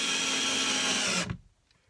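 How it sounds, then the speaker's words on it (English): A power drill drives a screw into a wooden cajon box, a steady loud whirring buzz that runs for over a second and then cuts off abruptly, leaving near silence. "Now I'm going to put in the rest of the screws."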